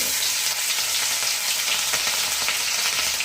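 Cumin, mustard seeds and chillies hit very hot oil and fry with a loud, dense, crackling sizzle that holds steady and close for the whole stretch, with no voices.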